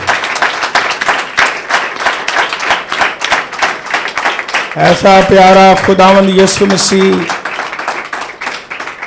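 A congregation at a Christian church service claps loudly and continuously while a preacher keeps talking over it, and a brief burst of music swells partway through.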